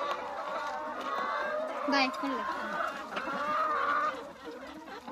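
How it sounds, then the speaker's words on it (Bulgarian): Hens cluck and chatter softly in a yard as they are thrown food, a steady low murmur of birds with a person speaking close by. "Кокошката е най-нечистото животно. Яде всичко."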